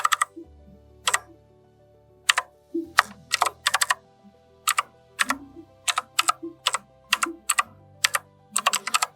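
Fingers type a website address on a computer keyboard in short, irregular bursts of crisp, close key clicks separated by brief pauses, with no talking.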